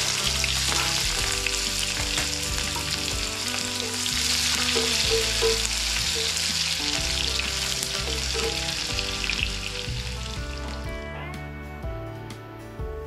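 Onion frying in a hot tempering of mustard seeds and cumin, a loud dense crackling sizzle with spatters and stirring, easing slightly toward the end.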